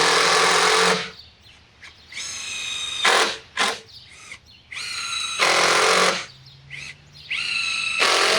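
A power driver sinking screws into 2x6 lumber for an engineered 6x6 barn post, several loud whining bursts of a second or so each, separated by brief quiet pauses, close and alone.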